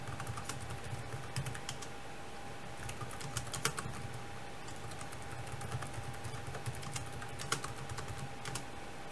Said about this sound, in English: Let me try to type something here.